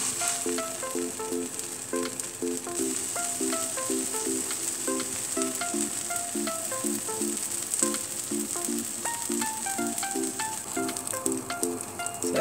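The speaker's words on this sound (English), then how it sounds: "just warm them a bit. Just to melt the butter." Burger buns toast gently in melting butter in a frying pan, giving a soft, steady sizzle that runs the whole time beneath quiet background music.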